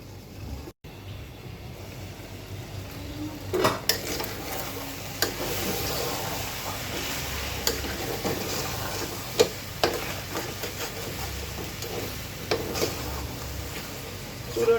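Steady sizzling and crackling of large river fish heads frying in hot oil over high heat, with occasional sharper pops and spatters, close by.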